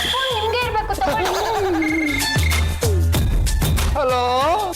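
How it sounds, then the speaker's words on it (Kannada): A telephone rings with repeated bright electronic tones in a Kannada TV serial scene, loud and close, heard over background music with people talking around it. "ಫೋನ್ ನಿಮ್ಗೆ ಇರ್ಬೇಕು, ತಗೊಳ್ಳಿ."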